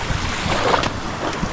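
Sea waves wash steadily along the shore in a broad, continuous roar mixed with wind buffeting the microphone, with no voices present.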